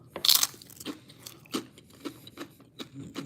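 Someone munches poppable chips close up: a loud first bite, then a string of lighter, airy crunches spaced out as the chewing continues.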